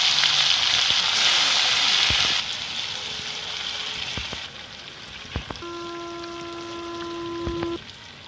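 Bhetki fish pieces go into a hot frying pan with black cumin, setting off a steady hiss of sizzling oil that drops in level and is punctuated by a few clicks and a brief tone.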